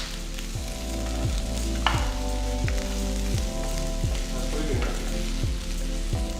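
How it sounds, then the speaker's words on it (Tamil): Onions sauté in a pan with a steady, close sizzle that continues throughout, under background music and with no speech. "ஸோ இப்போ வெங்காயம் பார்த்தீங்கன்னா ஒரு அளவுக்கு நல்லா வதங்கியிருக்கு."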